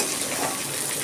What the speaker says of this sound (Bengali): ভাজা মুগ ডালটা মশলার সাথে আরেকটু ভেজে নেব।